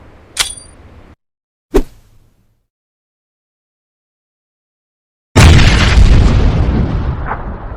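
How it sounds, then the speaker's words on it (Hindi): Grenade explosion effect: two short sharp thuds, then silence, then a loud booming blast that rumbles and decays over a couple of seconds. "वो देखो स्मोक, जल्दी से ग्रेनेड मारो"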